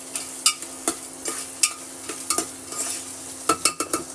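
Green peas frying with salt in a pan for matar pulao, a soft sizzle beneath frequent sharp clicks and scrapes of a spoon stirring against the metal, close and uneven in rhythm, no speech.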